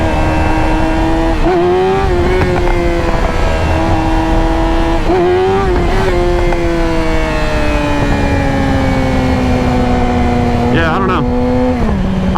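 A motorcycle engine holds a loud, steady high drone as the rider lifts into a wheelie, the pitch dipping and recovering with throttle changes and sagging near the end as the bike comes down.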